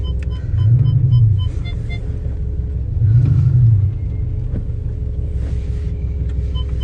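A car engine idles with a low rumble while reversing out of a workshop unit in the rain, two swells of engine noise rising and falling in the steady drone.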